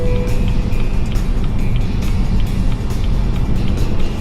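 A BMW 320i with an empty tank coasts uphill in neutral on a road near a highway exit, making a steady, loud rolling rumble of tyres and wind with no engine revving.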